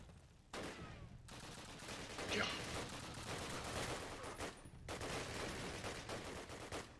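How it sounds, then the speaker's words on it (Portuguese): Bursts of rapid gunfire in a Call of Duty game crackle in clusters with short gaps, with quiet voices beneath. "Os caras estão dando tiro, velho."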